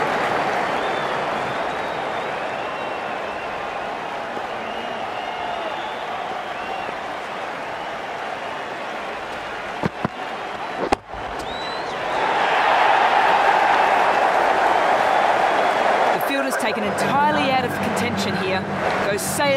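Cricket crowd at a World Cup match between Bangladesh and Sri Lanka, a steady wash of cheering and applause that swells louder partway through, with commentary talk over it.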